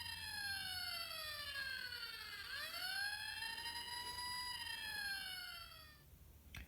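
A fire engine siren from a toy electronic circuit kit wails, its pitch sweeping down and then back up in a smooth rise and fall, thin and buzzy, with no talking.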